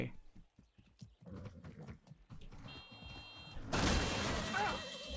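Rhythmic clip-clop of horse hooves at a trot in the video game Far Cry 6, fairly close, followed by a louder rushing noise with faint electronic tones.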